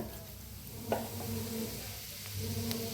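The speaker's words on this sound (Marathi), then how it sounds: "आता तेल चांगलं गरम झालेलं आहे त्याच्यात टाकूया एक चमचा मोहरी एक चमचा जिरं" Mustard seeds and cumin dropped into hot oil, sizzling and frying with a soft crackle, a few small pops and a low hum from the stove, fairly quiet and close.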